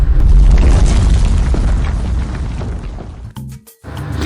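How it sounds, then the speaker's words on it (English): Playing an earthquake card in the Yaad Treasures strategy game sets off a loud, deep rumbling boom that slowly fades. Near the end a brief dropout comes before a short final burst. "Now let's see Earthquake."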